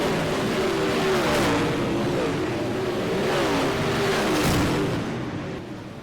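UMP modified race cars roar around the dirt oval at Knoxville, a dense, steady engine drone that swells and fades slightly as the pack passes, ending a little quieter.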